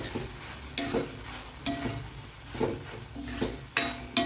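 Capsicum masala fries in a pan, a steady close sizzle broken by regular scraping strokes of a spoon stirring about once a second.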